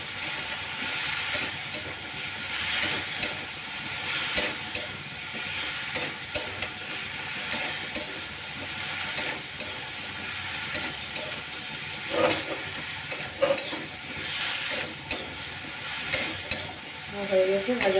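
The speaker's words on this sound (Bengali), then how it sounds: "ভালো করে একটু নেড়ে চেড়ে কষিয়ে নেবো মশলাটা ভেজে নেবো" A spice mixture stirred and fried in a pan, with a steady sizzling hiss broken by frequent scraping stirs and clinks, close and continuous throughout.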